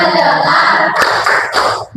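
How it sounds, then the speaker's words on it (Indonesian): Schoolchildren clap along to a 'tepuk fokus' focus chant in class, with several crisp group claps punctuating loud, steady chanting voices nearby. "Tepuk fokus."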